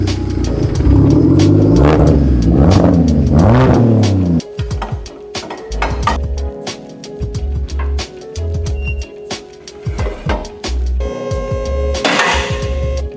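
Single turbo BMW 335i engine revving loud and close, a rising, warbling rev for about four seconds, then choppier bursts of engine noise with sharp pops and clicks, no talking.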